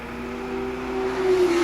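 A vintage BMW 2002 race car, number 20, goes by at a vintage grand prix in Pittsburgh, its engine a loud sustained tone rising in pitch and growing louder as it nears.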